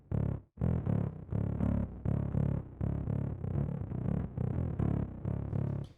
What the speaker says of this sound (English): So I created this parallel here with Faturator, which is like a really ugly distortion.